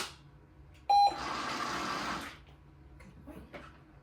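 A Treat & Train dog training aid sounds its medium tone, a short steady beep followed by a whirring mechanical dispenser hum lasting about a second and a half, fairly quiet and close, with no talking.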